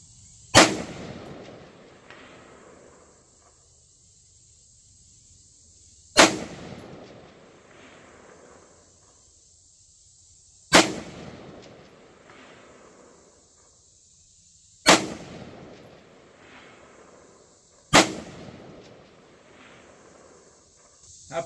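Five loud, sharp .223 rifle shots ring out outdoors from a rifle fitted with a Firefield Barrage 2.5-10x scope, spaced about three to five seconds apart, each with a ringing echo that fades into quiet.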